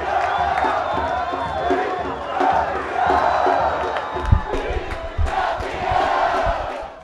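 Football supporters of Real Noroeste celebrate winning the 2022 Campeonato Capixaba title, a loud, sustained crowd roar with whoops and shouts rising and falling over several seconds, thumps and chants mixed in.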